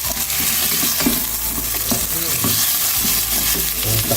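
Fish frying in a pan, the pan stirred now and then, giving a steady close sizzle with irregular scraping and clattering over the hiss and no voices.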